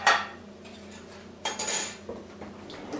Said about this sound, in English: Using a table knife, remove the corned beef from can.